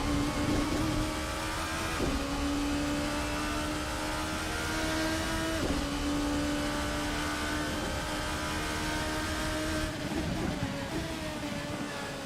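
A P1 prototype race car roars at nearly 200 mph around Silverstone during a four-hour endurance race in Assetto Corsa. A loud, steady high-revving engine drone holds throughout, with a few quick gear-shift dips.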